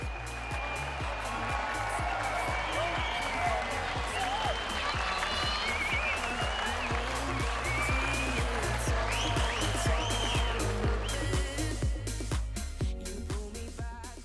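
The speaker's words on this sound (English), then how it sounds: "The crowd at Royal Randwick are going to erupt" A large racecourse crowd at Royal Randwick cheering and applauding continuously, a dense roar of claps and shouts that stays loud throughout.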